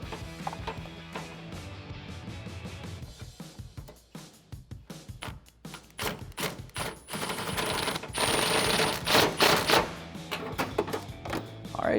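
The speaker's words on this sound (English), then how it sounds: "Now I'm gonna grab my 2 extensions and my swivel to tighten it down." Socket wrench fitted with two extensions and a swivel tightening a 10mm nut on a 2008-2014 vehicle during a headlight install: rapid, close ratcheting clicks in dense bursts, with a louder, busier stretch of clicking toward the end.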